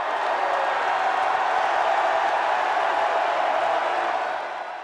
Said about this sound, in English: Knight walked onto the court at Assembly Hall to a standing ovation.